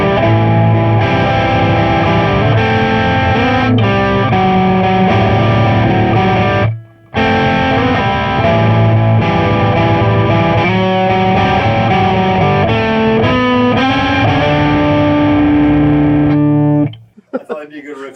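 A distorted electric guitar riff plays loud and continuous through an Orange overdrive amp, dense sustained chords with one short break in the middle before ringing on and cutting off near the end.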